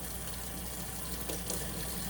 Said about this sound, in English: First, turn on water, get soap